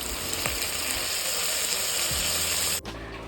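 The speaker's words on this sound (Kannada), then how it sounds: "ಈರುಳ್ಳಿ ಸ್ವಲ್ಪ ಗೋಲ್ಡನ್ ಬ್ರೌನ್ ಆಗೋ ತನಕ ಇದನ್ನು ಫ್ರೈ ಮಾಡಬೇಕು" Onions sizzling and frying in a pan, a dense steady crackle with a couple of stirring scrapes and a brief drop near the end, close and loud with no talk.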